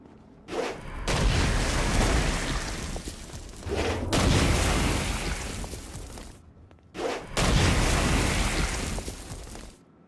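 Stone Blast attacks in Saints Row: Gat out of Hell, three heavy booming bursts each followed by a rumbling spread of debris and crackle, separated by short quieter gaps.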